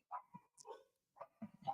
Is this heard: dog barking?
yes